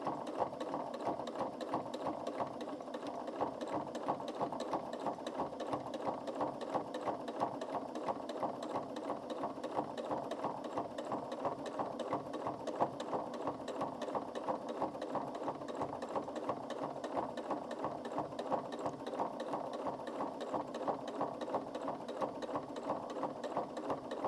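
A Janome MC 6700p sewing machine stitches a fabric cuff at a slow steady pace, its fast even needle chatter and motor hum continuing unbroken, moderately close.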